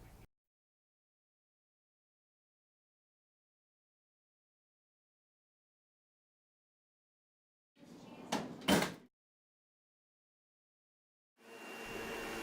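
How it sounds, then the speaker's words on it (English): A metal file drawer slides shut in an office, a brief rolling rumble ending in a sharp double clunk, close and clear amid near silence. "Keep all file drawers closed."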